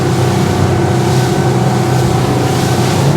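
A Highfield Patrol 860 RIB motorboat speeds along outside Hamble Point Marina, its engine a loud, steady, close drone mixed with rushing water and wind noise, with no pauses and no talking.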